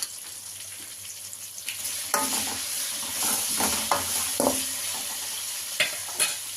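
Sambar ingredients with curry leaves and turmeric fry in a pan on low heat, a steady soft sizzle under intermittent scraping stirs of a spoon, close and without talk.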